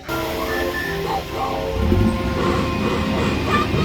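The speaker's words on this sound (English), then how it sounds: "2 trains on Casey Jr. are joining right now. We're stopping here, and we're going for a ride." Casey Jr. train ride at Disneyland running with two trains, a steady rumble and rattle of the small cars on track with faint clanks, heard at moderate distance under light background chatter.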